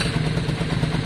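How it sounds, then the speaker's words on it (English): Yamaha Virago 535 motorcycle engine idling while not fully warm, a steady close low rumble with irregular spitting pops and clatter, no voices. "That spitting is interesting because that's something Sultan's does a lot as well."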